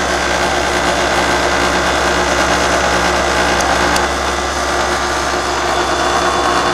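A York heat pump's compressor runs with a loud, steady mechanical hum and broadband whir, continuous and close throughout, no voices.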